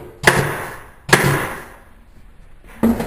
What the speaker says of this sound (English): And then I just stick the staple gun in there.